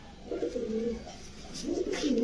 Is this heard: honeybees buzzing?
no